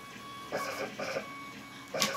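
A desktop printer runs while printing stickers, its feed mechanism whirring in quiet bursts of motion separated by brief pauses, close by, with no voices.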